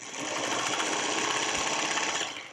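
A sewing machine runs steadily for about two seconds, chain stitching pairs of quilt-block fabric pieces one after another without breaking the thread, with a dense, even mechanical whir that tapers off at the end.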